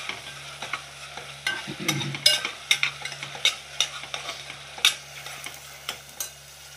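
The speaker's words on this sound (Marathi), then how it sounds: "आणि आपला मसाला चांगला व्यवस्थित भाजला पाहिजे" Vajri masala roasts in a pan while a spoon stirs it, a dry sizzle broken by regular sharp scraping strokes, close and steady with no talking.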